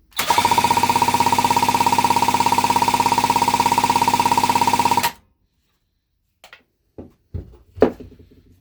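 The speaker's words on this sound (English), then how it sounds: "we're going to crank this thing over and see what we get and do a compression test" A 1977 Yamaha GT80 motorcycle engine is cranked over for a compression test, giving a rapid, even, loud mechanical chugging for about five seconds that stops abruptly, followed by silence and a few scattered clicks and knocks.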